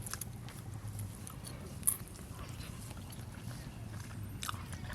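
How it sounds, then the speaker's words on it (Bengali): Someone eats rice mixed with taro leaves and hilsa fish head, with soft, close chewing and small wet bites repeating faintly, plus one slightly sharper click. "এখন কচু শাকটা খাচ্ছি"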